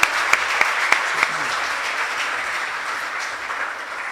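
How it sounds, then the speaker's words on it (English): An audience gives a round of applause for the sponsors at a schools quiz event on stage, a steady wash of clapping that holds through the whole stretch, with a few sharper claps standing out early on. "let's give our sponsors a round of applause"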